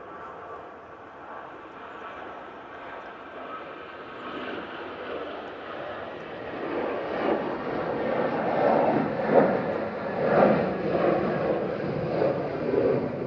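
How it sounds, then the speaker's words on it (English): An EasyJet airliner rolls down the runway on its takeoff run, its jet engine roar starting moderate and distant, then building and pulsing louder over the final seconds, with no one talking. "EasyJet is on the roll"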